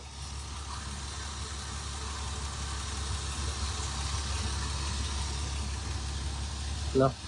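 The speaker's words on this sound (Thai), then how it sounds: "ก็ได้ติดเครื่องแล้วนะครับ" A Mercedes-Benz W202 engine idles steadily at close range with a low, even rumble, and a short clunk near the end.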